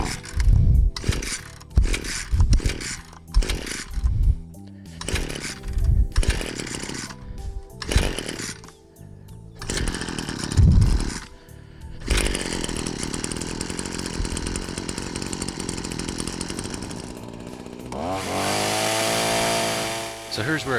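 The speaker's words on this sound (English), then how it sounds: "when I finally got it started up, the motor seemed to be bogging down even though I had the trigger depressed all the way" A Sunseeker gas trimmer with a 4-in-1 pole saw attachment, choke on full, is pull-started in a burst of sharp rattling tugs and sputters. It catches and runs as a steady, loud, buzzing two-stroke whine, then revs higher near the end.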